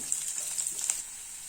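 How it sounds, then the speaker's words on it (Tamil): Small pieces of chopped garlic sautéing in hot oil for a potato fry, a bright continuous sizzle heard close and alone for a moment before it fades slightly. "இதையும் இதுல சேர்த்துக்கோங்க. இது நல்லா வதங்கட்டும்."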